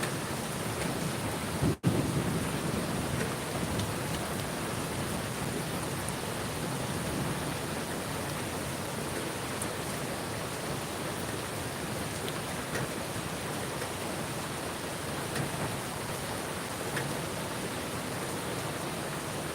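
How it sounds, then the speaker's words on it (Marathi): Heavy rain pouring in a dense, steady hiss that stays even and continuous, with one sharp knock early on and no talk. "खूप जोरात पाऊस आलेला आहे"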